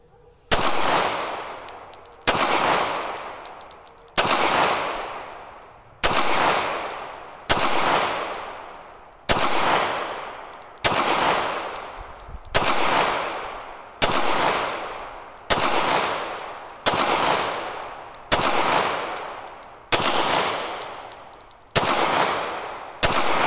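A CZ 75 SP01 Phantom pistol fires about fourteen sharp, loud shots outdoors at a steady, unhurried rhythm, each crack trailing off in a short decaying echo before the next round.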